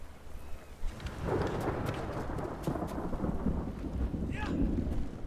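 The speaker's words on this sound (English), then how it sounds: "Storm coming." Thunderstorm in the Ghost of Tsushima video game, a steady rush of heavy rain with rumbling thunder underneath and scattered louder cracks, continuous and fairly loud throughout.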